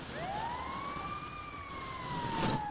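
Police car siren in Grand Theft Auto V, a single loud rising and falling wail sweeping steadily over the game's background rumble, with a short burst of noise near the end and no talk.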